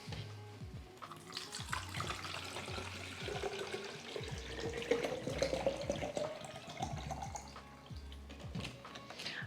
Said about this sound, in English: All right, we're going to water these all in.